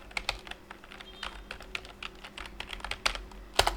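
Rapid clicking keystrokes on a computer keyboard as a Laravel artisan command is typed, steady irregular taps close by with a sharper final key press near the end, no voices.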